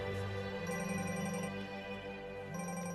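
A telephone rings steadily with a bright electronic ringtone, a repeating tonal pattern that continues throughout with no talking.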